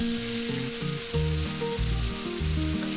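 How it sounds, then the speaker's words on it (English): Chopped onions fry in a pan for a chicken curry with coconut milk, alongside whole spices like cinnamon stick, cloves, cardamom, star anise and bay leaves; a steady close sizzle runs throughout while background music plays. "and then fry the onion until nice and soft"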